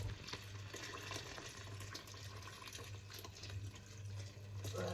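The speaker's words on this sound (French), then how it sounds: "je vais mettre de l'eau que je vais chauffer à part" Water runs and splashes steadily into a pot, filled to be heated separately while sakasaka cooks, with a continuous, close, fairly quiet pouring sound and a low background hum.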